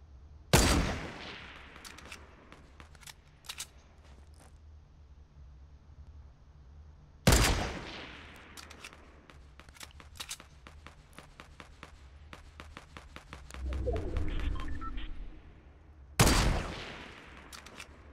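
Loud sniper rifle shots ring out in the game Fortnite, three sharp cracks spaced several seconds apart, each trailing off, between bursts of rapid distant gunfire and a brief rumbling movement.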